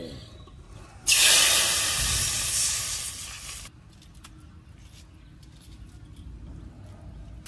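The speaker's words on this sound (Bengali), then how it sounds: "ওই তেলের মধ্যে জল দিয়ে দেবো" A loud burst of hissing and spitting as water is poured into hot oil left from frying small fish, fading after a few seconds into quieter bubbling.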